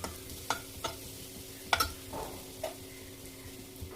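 Masala and spices roasting in oil in a pan for a beef liver fry, a soft sizzle with a handful of sharp spatula taps and scrapes at irregular moments.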